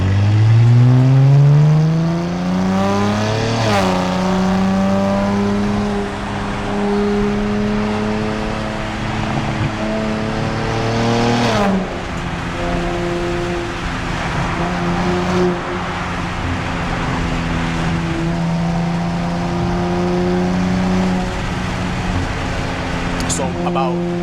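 Nissan Z NISMO with a Nismo track exhaust accelerating hard through the gears, the engine note climbing in repeated pulls with brief dips at each shift, loud and close throughout.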